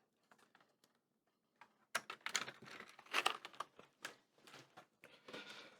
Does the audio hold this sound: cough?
no